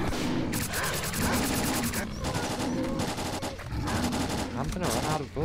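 Dense, continuous rapid gunfire from the S.T.A.L.K.E.R.: Clear Sky video game, loud and sustained in overlapping bursts, with a voice faintly under the shooting.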